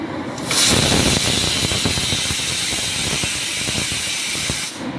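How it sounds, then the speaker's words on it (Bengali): Cabbage and lentils fry in a hot pan with a loud, steady hiss. The sizzle jumps in abruptly, holds at an even level with faint crackles under the spray-like hiss, and cuts off just as suddenly. "এই যে আমি ধরে ধরে ভাজছি, ভাজাটা একদম সুন্দর ব্রাউন হয়ে আসবে যখন"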